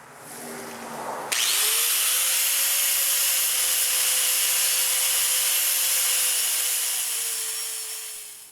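A 4.5-inch knotted wire wheel on an angle grinder spins up sharply and scours welding slag off a racing mower's chain sprocket, a loud, steady, close whine with a rough brushing hiss that fades as it winds down.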